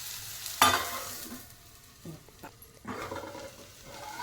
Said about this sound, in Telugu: ఒక టేబుల్ స్పూన్ పసుపు వేసి పచ్చివాసన పోయే వరకు వేయించాలి